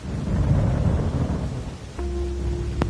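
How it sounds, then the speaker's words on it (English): Thunder from a livestream sound effect: a loud, sustained low rumble swelling and fading over a few seconds, followed by a quieter tail with a faint steady tone near the end. "But there's a lot of really cool thunder."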